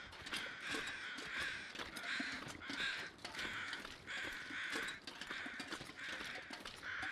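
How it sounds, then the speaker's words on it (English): Crows caw repeatedly in The Long Dark survival game, harsh rasping calls overlapping in irregular bursts from more than one bird, steady and moderately near throughout. "there's like 2 sets of crows I'm hearing"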